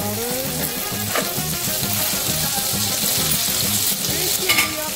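Butter sizzles in a deep, wide kadai, a steady crackling fry with faint stirring scrapes, close and continuous with no talking.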